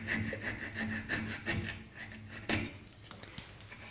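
A hand saw cuts dovetails in wood with rhythmic back-and-forth rasping strokes, close and fairly quiet, slowing toward the end.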